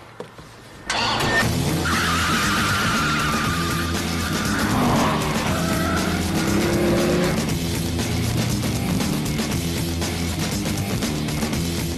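A Dodge Viper with an 8.3-litre V10 rasps past loudly, engine roaring as the tyres skid and squeal briefly, then the car drives on under a sustained, close engine drone.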